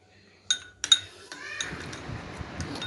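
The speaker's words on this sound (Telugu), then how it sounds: "ఇవన్నీ కలిసేలాగా నేను మిక్స్ చేస్తున్నాను." A spoon clinks against a bowl while mixing a face pack paste with milk and orange peel powder: a few sharp, close metallic taps in quick succession, then softer scraping stirring.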